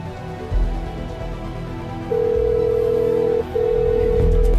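A telephone tone plays steadily over low background hum, breaks for a moment, then comes back as a call is placed.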